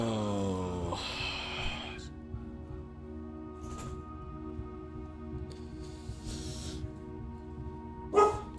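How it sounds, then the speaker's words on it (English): A dog in the video game Blue Prince lets out a drawn-out whining bark at the start, then gives a short yip near the end over steady background music. "No barking, please."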